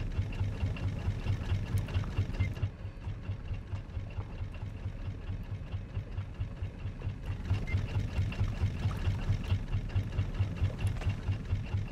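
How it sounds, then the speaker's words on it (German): Motor on a raft in the survival game Raft runs steadily, a low, rhythmic chugging drone with a pulsing beat that continues for the whole stretch, briefly softening midway, with no talk. "Sag dann, wenn ich abstellen soll den Motor."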